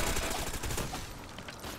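Enemy gunfire in the Ghost Recon Phantoms video game: a dense, continuous rattle of automatic shots amid noisy combat, fairly loud throughout the brief burst.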